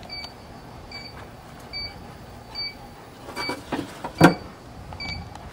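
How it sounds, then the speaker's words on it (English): A Guru temperature probe alarm gives short, evenly spaced electronic beeps at a backyard barbecue smoker cook, quiet and repeating, with a few clicks and knocks around them. "It's just an alarm on the guru I have set."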